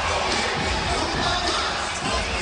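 A packed arena crowd roars and cheers at a Mississippi State versus Ole Miss college basketball rivalry game, a loud, sustained wall of voices with no break.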